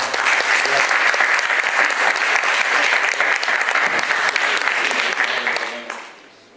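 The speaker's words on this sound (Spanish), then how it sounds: "Les pedimos con un fuerte aplauso," A large audience breaks into loud, sustained applause welcoming a doctor at a formal panel event, dense clapping holding steady for several seconds before fading out at the end.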